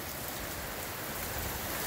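Steady rain falls in Norridge, Chicago, pouring off a gutter, a dense even hiss with no letup throughout.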